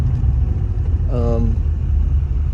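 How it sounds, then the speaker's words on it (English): An LB7 Duramax diesel engine idles with a deep, close rumble while a short, rising turbo whistle chirps briefly midway through. "You can definitely hear that turbo."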